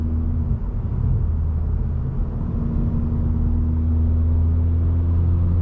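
A Kia Forte GT engine with a RaceChip tune drones steadily with low rumble, building slightly in strength toward the end as it accelerates hard, with no voices.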